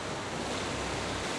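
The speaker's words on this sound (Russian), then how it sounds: "Немножко волны поднялись, но это не страшно." Ocean waves in the survival game Raft wash steadily around a raft in slightly rising seas, a continuous broadband surf rush with a low wind-like rumble and no talking.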